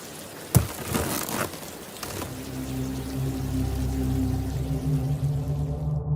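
Rain falls steadily outside, a soft continuous patter under a low drone, preceded by a few sharp knocks and rustles near the start.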